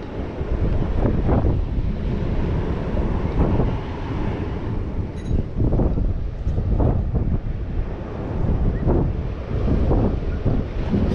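High ocean waves break on the shore in strong wind, which buffets the microphone constantly, while rolling surges of surf swell and recede in a loud, continuous roar.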